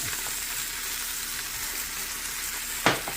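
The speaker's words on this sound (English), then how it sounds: "Now we can add our onion." Chopped onion cooking in a beef stew pot, a steady moderate sizzle throughout, ending with a brief louder clatter near the close.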